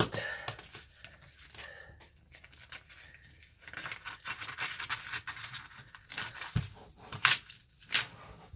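Canvas material is cut in short, irregular scratchy strokes and rustles, quiet at first and louder toward the end.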